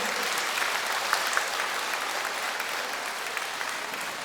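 An audience at the Kukuriček 2023 international children's festival gives a dense, steady round of applause with many hands clapping at once, loud and sustained.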